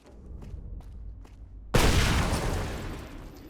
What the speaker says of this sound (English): there is a delay when that explosion goes off